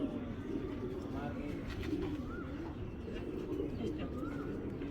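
A racing pigeon pair coos inside a cage, a continuous low cooing close by with background voices and noise throughout.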